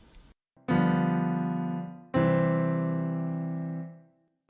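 Two sustained piano chords played as chord substitutions, each struck firmly and left to ring and slowly decay, the second following about a second and a half after the first, clear and close with no talk.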